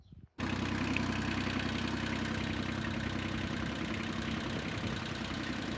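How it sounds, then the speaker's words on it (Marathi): After a brief quieter moment, a tractor engine idles loud and close on a farm, a steady low rumble that runs unbroken to the end. "मग तो ट्रॅक्टर आणून या ट्रॉलीला जोडायचा."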